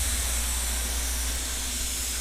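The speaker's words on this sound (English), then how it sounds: "spray finishing. Here we're putting a couple coats of clear lacquer onto the drawer boxes" A Fuji D6 HVLP spray gun sprays clear lacquer onto drawer boxes in a workshop, producing a loud, steady, continuous broadband hiss with a low hum beneath and no pauses.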